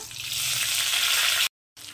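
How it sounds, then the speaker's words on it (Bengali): Cumin seeds, whole garam masala and bay leaves frying in hot oil give a steady loud hiss for about a second and a half, then cut off abruptly. "তো প্রথমেই তেলের মধ্যে আমি দিয়ে দিচ্ছি একটু সাদা জিরে, একটু গোটা গরম মশলা, দুটো তেজপাতা।"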